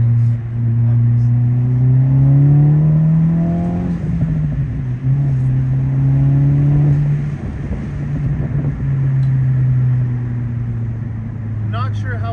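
Honda Civic Type R (2023+) with an HKS SQV4 blow-off valve, pulling hard in third gear, its engine note rising steadily, then easing and climbing again, with exhaust burbles and intake and valve noises, loud and close, while someone talks over parts of it.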